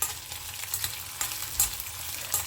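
Fenugreek seeds, urad dal and dried red chillies frying in oil, a brief close crackling sizzle with soft stirring scrapes and a few brighter pops.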